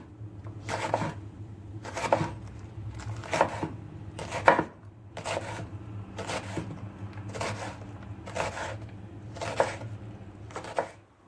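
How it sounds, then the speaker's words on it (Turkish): Nine or ten crisp knife chops through onion strike a board at a steady, unhurried pace, close up, over a faint low hum. "Malzemeleri doğramaya soğandan başlıyorum."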